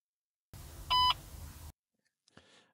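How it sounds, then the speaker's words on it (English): A single steady electronic beep from a Ford Transit Custom dashboard clock confirming the set time, clean and tonal, lasting a fraction of a second over a low background hum, followed by quiet faint clicks. "if you leave it like that, it'll beep in a second and that confirms your time"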